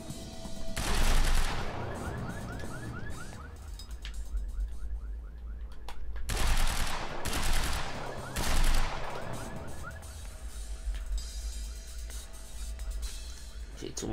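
Game gunfire from a firefight in Quantum Break, with bursts of shots and rapid automatic fire near and loud, coming in several clusters across the scene, mixed with game voices talking and shouting over the shooting.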